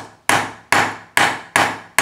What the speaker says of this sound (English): tapping out those dents